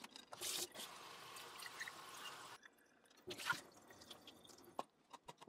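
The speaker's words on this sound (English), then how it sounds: "I will put the filter in here and then run hot water over it" Hot water poured through a paper coffee filter into a carafe while brewing coffee at home, a splashing trickle with dripping in two bursts separated by a brief pause.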